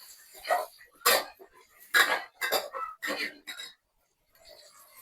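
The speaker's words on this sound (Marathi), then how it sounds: "आता आपल्या याच्यामध्ये आपल्याला जे भाजी आपण घेतली होती बटाटे वगैरे ते टाकून घेऊया, चांगलं परतून घेऊया." Potatoes and mixed vegetables for veg khichdi sautéed with spices in a pot, a spoon scraping and clinking against the metal in a few distinct bursts, with a quiet pause near the end.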